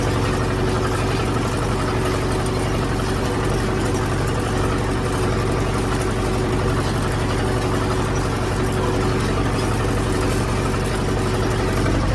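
A tractor engine drones steadily and loudly while pulling a modernized Polish hay rake, a constant low rumble with no breaks or talking.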